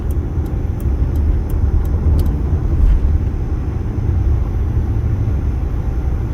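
Road traffic on an Interstate 15 interchange in Las Vegas makes a loud, steady low rumble of vehicles passing close by, with a series of faint evenly spaced ticks early on.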